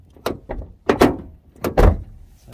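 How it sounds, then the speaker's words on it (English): The damaged door of a Chevy/GMC pickup truck, hurt in a run-in, is swung shut several times, each close a sharp thunk as it hits the body, three or four loud knocks spread unevenly through the clip. "this can't quite get in this door because it's hitting right there, making a horrible sound"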